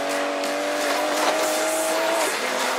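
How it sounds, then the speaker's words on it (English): An Aston Martin DB11 drives in the Need for Speed Payback racing game, its engine a steady, loud roar with a high tire squeal running through, continuous and close. "It's not every day I get to take Weir's DB11 for a spin."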